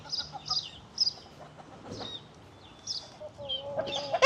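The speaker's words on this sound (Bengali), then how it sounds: "যখনই কোনো মোরগ আসবে কালুর কাছে" Chickens cluck in short bursts around a farmyard, with a rooster's louder, drawn-out call rising near the end over a low background hum.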